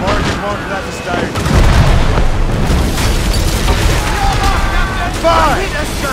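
Ship cannons fire and explosions roar continuously during an Assassin's Creed Rogue naval battle, a dense loud rumble of booms with shouting voices over it.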